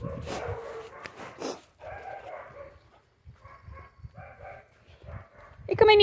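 Small Omani puppy yips and whimpers come in short bursts after a rain shower, mixed with a person speaking nearby and a sharp high squeak near the end.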